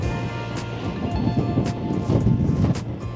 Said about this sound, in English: Oh, it is blustery, everybody.